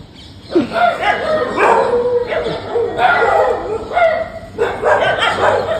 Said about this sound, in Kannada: ನಾಯಿಗಳಿಗೆ ಹೋಗಿ ಫೈಟ್ ಮಾಡಿಸ್ತಿದ್ದೆ ನಾನು